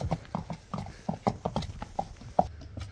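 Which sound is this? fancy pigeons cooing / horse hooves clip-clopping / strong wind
horse hooves clip-clopping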